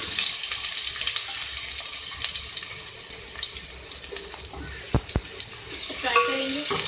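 Two medium onions frying in oil in a pan for a beef lauki gosht curry, a steady close sizzle with occasional stirring clatter and a few sharp knocks of a spoon against the pan.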